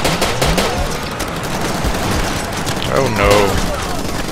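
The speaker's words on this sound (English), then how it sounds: "Yeah, he's shooting me" A very big gun fires in Far Cry 2 as a rapid, loud burst of heavy shots in a dense rattling volley, while a player talks briefly over it.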